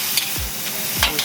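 Habanero pepper and culantro (bandanya) cook on low heat in a pan for Trini-style chicken and broccoli, giving a steady close sizzle with a couple of soft thuds as the pan contents are moved.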